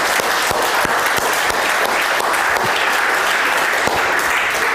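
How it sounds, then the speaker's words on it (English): A church congregation claps for the Lord at a worship service: loud, dense applause with a few sharper individual claps standing out, sustained evenly for several seconds. "Let's give the Lord a clap."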